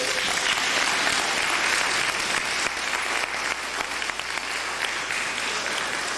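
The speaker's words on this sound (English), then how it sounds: "give Dr.Afrika another big round of applause" An audience at a talk breaks into dense, sustained applause. The clapping stays loud and steady throughout, without voices.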